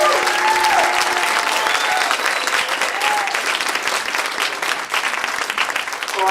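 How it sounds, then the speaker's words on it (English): Loud, steady applause from an evening audience at a Human Rights Day celebration, greeting the mayor, with a few cheers and whistles riding over the dense clapping throughout. "So I would like to ask you now for a round of applause for our mayor."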